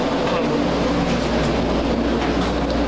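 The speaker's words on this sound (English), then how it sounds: "Doors closing. Doors closing. Please stand clear. Train departing." An airport terminal people-mover train departing, a steady loud rumble of rolling rail car and motor noise throughout, with an automated announcement voice over it.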